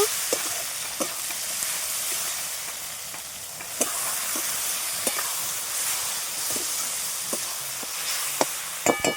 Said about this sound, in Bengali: মশলাটা খুব ভালোভাবে কষিয়ে নেব নিয়ে অল্প একটু জল দিয়ে নেব